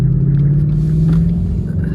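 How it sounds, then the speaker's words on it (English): A Ford Mustang with paddle shifters, its engine revving in a low, loud rumbling drone that rises slightly in pitch over a brief moment. "So you see it's revving up"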